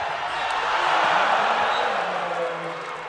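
A wrestling crowd at the U.S. Open finals roars and cheers in a big arena, a swelling wash of voices that rises and then slowly fades.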